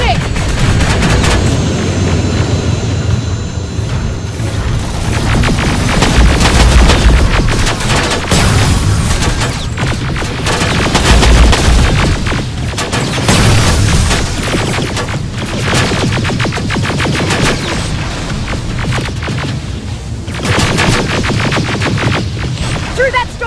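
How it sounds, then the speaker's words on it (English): Dense, nearly continuous gunfire from a Terminator video game battle, with rifle bursts and heavy booms overlapping loudly for the whole stretch, while voices shout through the din. "Don't stop shooting!"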